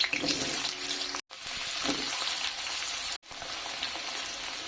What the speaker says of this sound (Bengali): তেল গরম হয়ে এসেছে, আমি প্রথমে আলু ভেজে তুলে নেব। দিয়ে দিচ্ছি আলু,